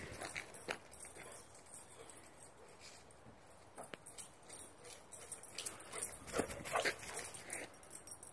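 A dog whimpers faintly while shuffling and moving about on a quiet outdoor day, with scattered soft thumps and rustles, the sounds intermittent and moderately close.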